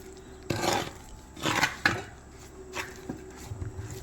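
Semolina being stirred into jackfruit batter in a bowl, with a few scattered knocks and scraping clinks of a spoon against the bowl, fairly close and quiet.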